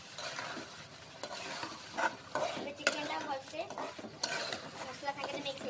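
Chicken curry masala stirred in a pot, a spoon scraping and clinking against the metal in steady strokes over a continuous close sizzle, with occasional sharper knocks.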